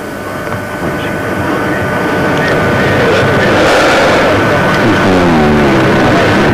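A steady, loud roar of aircraft engine noise builds slowly and holds as planes pass overhead near Hadžići in June 1992, with a broad rushing wash throughout.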